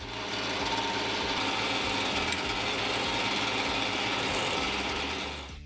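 A lathe drilling out the center of a steel part held in the chuck, a steady, loud grinding and whirring machine noise with a rhythmic rattling undertone, running continuously and alone before cutting off at the end.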